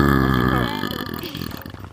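A long, loud burp rumbles alone for about two seconds, starting strong and trailing off into a rough, gurgling tail, made deliberately close to a microphone during an online game session.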